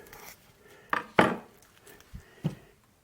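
A kitchen knife cuts through half an onion on a cutting board, giving a few sparse, close, sharp chops at irregular intervals with quiet pauses between.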